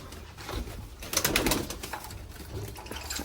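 Pigeons in a loft cooing close by, soft throaty calls overlapping with some rustling and fluttering, a busier burst in the middle, and no talking.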